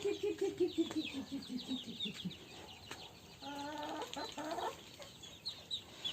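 Chickens and chicks cluck and chatter close by while being fed millet, in a busy, uneven stream mixed with high peeping calls, with no talking.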